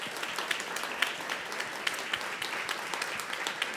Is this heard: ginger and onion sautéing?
no